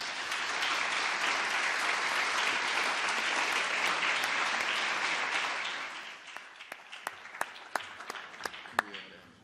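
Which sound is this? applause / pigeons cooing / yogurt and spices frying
applause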